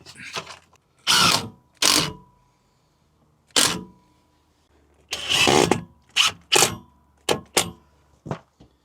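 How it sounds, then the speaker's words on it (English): A bed fitting is screwed into position in a Ford Transit Custom camper van conversion, heard as separate short bursts of a screwdriver or drill. The bursts are close, loud and irregular, with quiet pauses between them. "I'm going to screw it into position."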